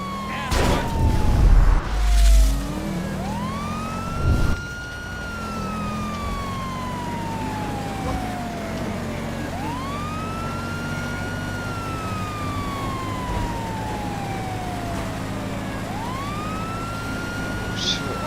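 Police sirens wail in GTA 5, rising and falling in repeated sweeps as a vehicle is chased, loud and close, with engine rumble and a few brief bumps at the start.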